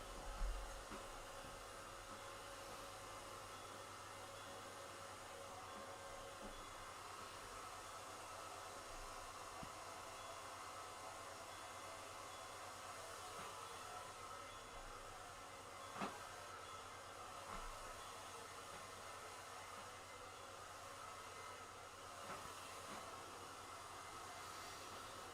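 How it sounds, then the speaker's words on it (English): A blow dryer running steadily in a room, a faint continuous whooshing hiss that holds unbroken throughout, heard from some distance with no talking. "Sandy's blow dryer here. If that's too loud, I apologize."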